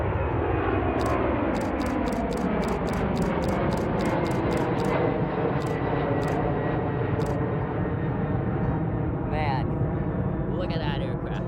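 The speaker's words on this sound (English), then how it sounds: "look at that aircraft" A passenger airliner takes off at Sacramento airport, its engine roar loud and steady throughout, with a person talking excitedly over the noise.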